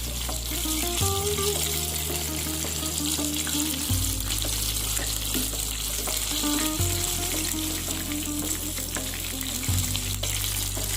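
Food frying in a pan in a small boarding-house kitchen, a steady loud sizzle and crackle running throughout, with no one talking.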